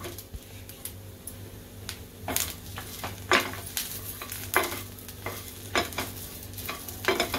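Onion, coconut, coriander seeds, sesame, ginger and garlic sautéing in a pan make a soft low sizzle. Scattered spoon scrapes and clinks against the pan come through in irregular bursts.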